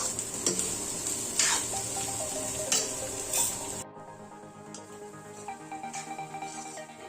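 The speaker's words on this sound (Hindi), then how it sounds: "इस तरह से हमें चम्मच से हिलाते हुए इन दालों को अच्छी तरह से भून लेना है" Sprouted lentils roast on high flame in a pan, sizzling loudly while a spoon stirs them with light scraping taps; partway through the hiss drops sharply, leaving quieter scrapes and soft clinks.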